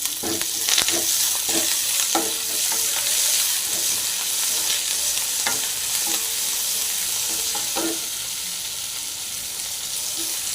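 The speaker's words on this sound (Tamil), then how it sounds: "நல்லா ஃப்ரை ஆகிட்டுங்க பாருங்கள்" Manila tamarind pods (kodukkapuli) fry in a pan with coriander leaves, giving a steady, fairly loud sizzle broken by repeated scrapes and clatters of stirring. No one speaks.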